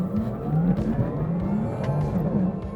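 An electric Porsche Taycan GTS Sport Turismo accelerates hard, a loud, steady whine and road roar that holds on without gear changes, close and continuous, with no one talking.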